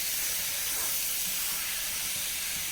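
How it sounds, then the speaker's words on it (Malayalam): Big cleaned squid sizzles in a hot pan as it is stirred, a steady bright frying hiss that holds evenly throughout, with a faint clatter right at the end and no talking. "നമുക്കിതിലേക്ക് ക്ലീൻ ചെയ്ത് വെച്ച കൂന്തലിട്ട് കൊടുക്കാം"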